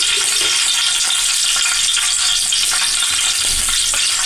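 Whole garam masala and biryani spices frying in a pan with onions for chicken biryani, a loud, close, constant sizzle with occasional stirring and no talking.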